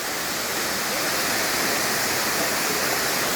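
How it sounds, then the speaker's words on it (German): A tropical jungle waterfall pours in a steady, unbroken broadband roar, loud and close, with no pauses or other sounds across the whole stretch. "Und hier dieser traumhafte Wasserfall."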